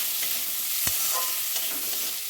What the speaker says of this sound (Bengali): এরপর পেঁয়াজ কুচি দিয়ে দেবো।